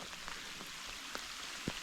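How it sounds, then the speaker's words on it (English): Steady rain patters down at a small campground with park benches and tables, a soft continuous hiss with a few louder drips striking nearby, faint and without voices. "we could sit there if it wasn't raining. It's coming down now."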